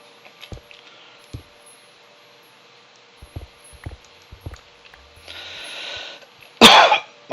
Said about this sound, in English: I do apologize for the cough again.